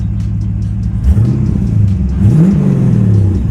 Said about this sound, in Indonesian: sekarang coba kita gas dikit ya